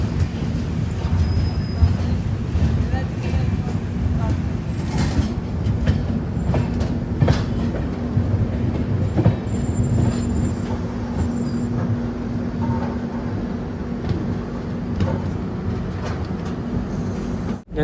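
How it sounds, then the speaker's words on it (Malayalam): Rapti Sagar Express rolling out of Vijayawada, heard from aboard: continuous rumble and rattle of the coach with clicks over rail joints and occasional wheel squeal, steady throughout with no talk. "6:54 വിജയവാഡയിൽ നിന്ന് അങ്ങനെ ട്രെയിൻ എടുത്തു."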